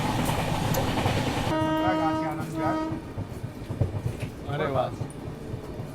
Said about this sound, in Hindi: अच्छा जम्मू मेल है, जम्मू मेल आ गई।